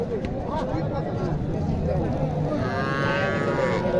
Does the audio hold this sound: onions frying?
no